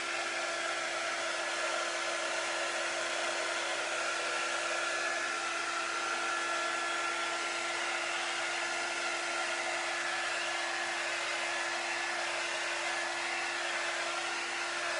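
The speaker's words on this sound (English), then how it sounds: "now I'm just going to use our quick dry tool to dry this" A quick-dry heat tool blows steadily over a chalk transfer for a craft project, a continuous airy whoosh with a faint hum, loud and unbroken throughout with no talking.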